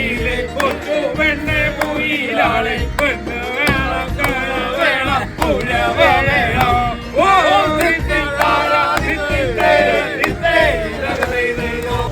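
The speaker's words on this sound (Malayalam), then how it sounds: "ആർപ്പുവിളികളുടെയും കയ്യടികളുടെയും തോർത്തു കറക്കലിൻ്റെയും ഒക്കെ താളത്തിൽ ഞങ്ങളുടെ ചുണ്ടൻ അങ്ങനെ കുതിക്കുകയാണ്" A crowd aboard a chundan snake boat cheers, shouts and claps in rhythm, loud and close, a dense mass of voices with sharp claps running throughout.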